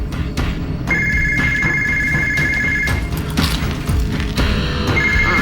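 A telephone rings loudly in repeated electronic bursts, two clear rings separated by a pause, over busy background sound with no talk.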